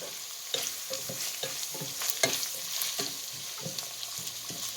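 Diced onions frying with hamburger meat in a pot for homemade chili, a constant close sizzle broken by regular scraping and clicking as a utensil stirs the mixture.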